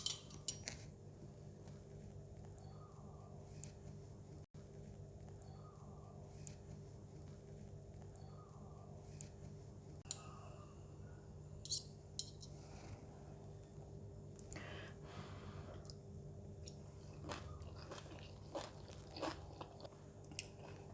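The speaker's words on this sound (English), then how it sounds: "Let's eat!" Someone eats stir-fried choy sum with prawns: cutlery clinks and taps against a dish, with close, quiet crunching and chewing in between and no talk.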